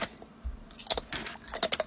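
Crunchy stick of gum from a 1986 Topps baseball card pack being bitten and chewed close up, with a few sharp crunches and soft mouth clicks in quick succession.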